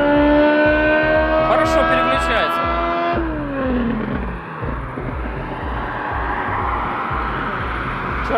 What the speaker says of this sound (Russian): Вот слышишь, они там начали ехать, до нас отсюда 600 метров.